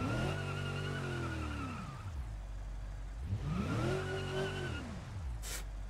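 A car without all-wheel drive skids with its parking brake pulled, its engine revving up and falling back in two loud surges, mixed with tire noise and a short sharp burst at the end.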